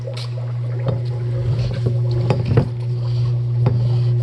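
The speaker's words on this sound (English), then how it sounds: "plug your pump in and stick the diffuser in the tote" An air pump drives a diffuser pushed down into an EcoTea tote of water mixed with EcoTea microbial foods and EcoTea HDI. A steady, close mechanical hum runs throughout, with scattered gurgling bubble bursts over it.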